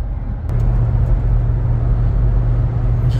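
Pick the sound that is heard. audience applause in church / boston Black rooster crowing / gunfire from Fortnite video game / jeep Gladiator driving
jeep Gladiator driving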